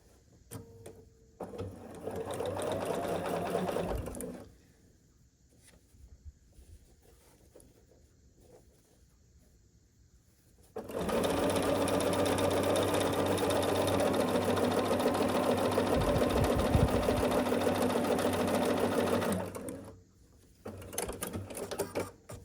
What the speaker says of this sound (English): we'll sew each strip to one side of this long rectangle